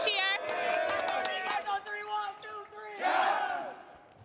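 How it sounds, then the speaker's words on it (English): Los Gatos Wildcats high school basketball team shouting a group cheer together, loud voices rising in unison, a chant-like call with a second burst of yelling near the end. "Guys, take us out with a cheer."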